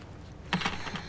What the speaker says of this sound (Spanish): Y aquí le daré las llaves.